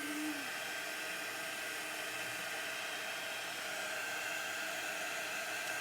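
Hot-air heat tool blowing steadily to dry wet red chalk-couture ink on a curved surface, a continuous broadband whoosh that stays loud and even from start to finish with no talking.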